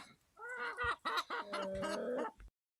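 Chickens in a backyard flock clucking and squawking at newly arrived quail and chickens, a run of agitated close calls with a few sharp bursts and a longer drawn-out cackle.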